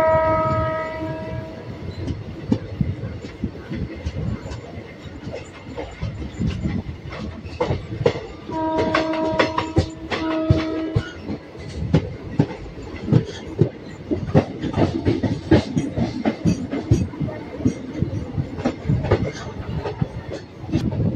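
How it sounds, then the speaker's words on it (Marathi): A passenger train pulls out of Jejuri railway station on the Miraj–Pune line after its departure whistle, with steady rumbling and rhythmic wheel clatter over the rails, brief horn-like tones early on and around the middle, and faint voices underneath. "गाडी आता जेजुरी रेल्वे स्टेशनवरून निघत आहे"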